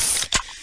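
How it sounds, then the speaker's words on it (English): A freshly opened, fizz-filled Pepsi in a radio advert: a steady hiss of fizz, then one sharp burst of escaping gas, which fades back to a quieter fizz, heard alone. "that's the sound of a freshly opened fizz-filled Pepsi"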